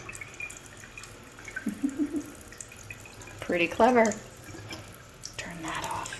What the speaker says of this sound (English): And if I push this one down, the water comes out over here.